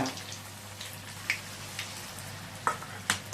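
Bonda made from fermented batter frying in hot oil, a steady soft sizzle with occasional sharper crackles and pops spread through, close by and moderately loud, no voices.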